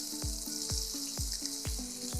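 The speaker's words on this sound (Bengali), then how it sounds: "এটা একটু ভাজা ভাজা করে নিলাম।" Roughly cut potato pieces sizzle in a hot pan with a constant bright hiss, while regular knocking sweeps, probably from stirring, recur about twice a second, close and without speech.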